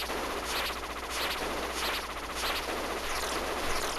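A smart bomb going off in the arcade shooter Geometry Wars Retro Evolved, a run of rapid crackling bursts that pulse roughly every half second at moderate level, with no voices.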